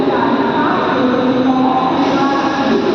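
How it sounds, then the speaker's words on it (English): A Mumbai local fast train runs at CST station (Chhatrapati Shivaji Maharaj Terminus), a loud continuous rumble and roar of the carriages with a voice murmuring underneath. "This is a fast train,"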